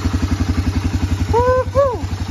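A Honda TRX250 ATV engine chugs in a rapid, even pulsing idle close by, while a voice briefly whoops over it.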